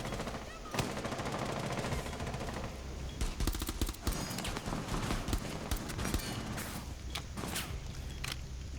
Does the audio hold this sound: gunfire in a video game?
yes